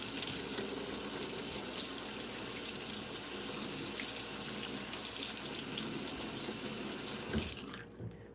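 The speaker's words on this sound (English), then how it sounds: "We take our metal hot spatula, we run it under some hot water." Hot water runs steadily from a kitchen tap over a metal spatula, a close, continuous splashing gush that lasts several seconds before the tap is shut off abruptly.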